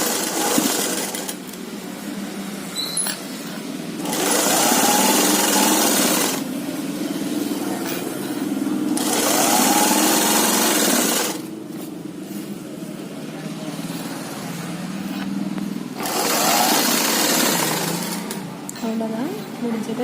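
Sewing machine stitching the folded end of a frilled pillow cover, running in several sustained bursts of a few seconds each with a steady whirring motor and rapid needle chatter, separated by short pauses.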